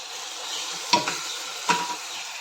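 Vegetables sizzle steadily in a pan seasoned with turmeric and cumin, before potatoes and peas are added. Two sharp scrapes of a spatula stir through the soft, continuous frying hiss, close and fairly quiet with no voices.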